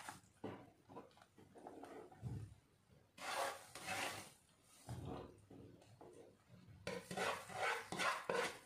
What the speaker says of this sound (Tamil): இந்த ஸ்டேஜில் நம்ம ரவையை கொஞ்சம் கொஞ்சமாக கொட்டி கிளறி விட்டுக்கலாம், கட்டி இல்லாமல்.